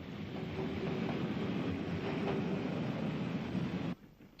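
Steady rumbling train noise with faint rhythmic wheel clatter, from an electric locomotive on the steeply graded Newcastle Quayside branch. It holds loud and even, then cuts off abruptly near the end.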